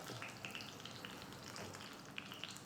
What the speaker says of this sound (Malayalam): വെളിച്ചെണ്ണ നല്ല ചൂടായതിന് ശേഷം നമ്മൾ കറിവേപ്പില ഒന്ന് ഇട്ടാൽ